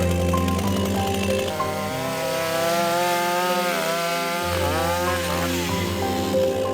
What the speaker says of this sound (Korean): 구조단이 나무를 들어 뗏목에 싣고 전기톱으로 자른다.